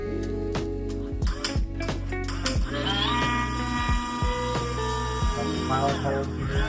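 Power drill boring pilot holes for shower valve screws during a DIY shower valve replacement, heard as loud whining bursts that start and stop several times, with a revving pitch sweep in the middle.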